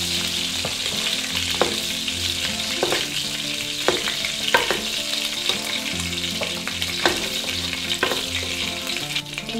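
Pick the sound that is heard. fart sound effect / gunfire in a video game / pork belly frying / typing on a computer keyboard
pork belly frying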